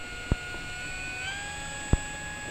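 An FMS F4U Corsair 1700mm RC model warbird taxis across grass, its electric motor whining in a thin steady tone that rises slightly midway, with two sharp knocks standing out against the hum.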